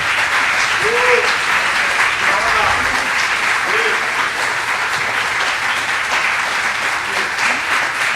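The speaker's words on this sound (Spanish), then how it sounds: "Un aplauso muy fuerte." Sustained, full audience applause after a film screening and talk, even dense clapping from a large crowd with a few brief voices rising above it.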